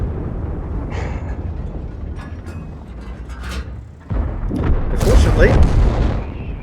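Tank cannon shot from a T95/FV4201 Chieftain in World of Tanks, a heavy boom that hits midway through and rolls on over the rumble and clatter of the battle.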